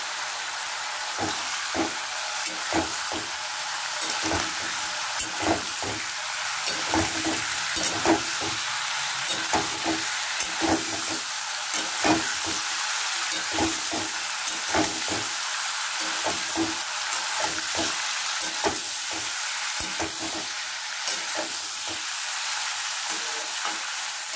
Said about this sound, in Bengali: আমার ফুলকপিগুলো ভাজা হয়ে গেছে